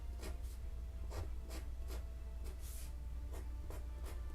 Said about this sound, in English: So I'm going to break out the Sharpie. Let's just sketch.